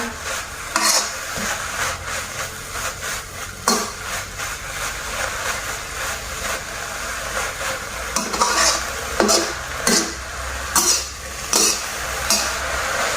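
Red ants dry-roasted in a pan for miang mot daeng, heard as close, continuous scraping and stirring with intermittent sharp knocks of a utensil against the pan over a faint sizzle, with no talking.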